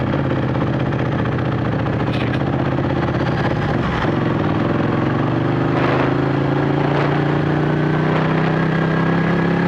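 A Ducati 1199 Panigale's engine drones loud and close while riding, a continuous throaty hum that shifts pitch mid-ride as the revs change, with brief mechanical knocks above the steady roar.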